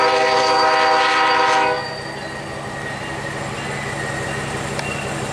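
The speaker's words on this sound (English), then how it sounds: "Oh man, got a train going by." A train rolls past close by, its horn blaring loudly for nearly two seconds before giving way to the steady rumble of rail cars.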